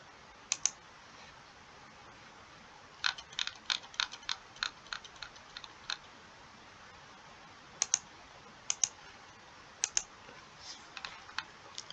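Mouse clicks on a computer while uploading a file, a series of sharp, quiet clicks in irregular clusters over a faint room hiss, with no talk.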